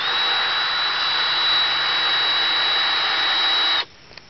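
A cordless drill motor whirs at a constant high pitch, loud and close, failing to drill through a plastic bucket, then stops suddenly, leaving near silence.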